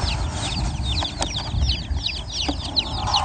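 Young farm chicks set one by one into their new cage peep continuously in a busy, high chorus, with a few soft thumps and rustles underneath.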